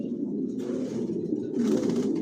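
Racing pigeons of a Johnson line coo inside a loft, a continuous low throaty burble from several birds nearby that swells toward the end, with no talking.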